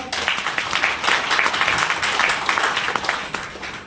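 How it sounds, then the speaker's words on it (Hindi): Audience at a leadership training session applauds, a steady wash of many hands clapping at moderate loudness for a few seconds, with no talk over it. "तो तालियां हो जाए फिर एक बार।"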